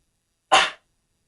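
A single short cough, one sharp burst that fades within a quarter second, close and alone against silence.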